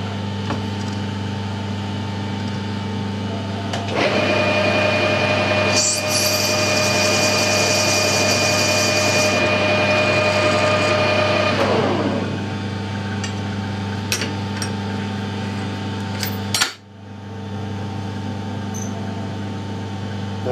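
A metal lathe cuts a taper on a BSP-threaded coolant pipe adapter union, a steady motor hum with a bright, whining cutting tone for several seconds in the middle before the machine settles back to its hum and stops briefly.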